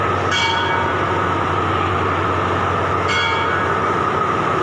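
Express train 112 rumbles loudly and steadily as it pulls out of a station in Thailand, its continuous mechanical roar close by and interrupted twice by brief high squeals.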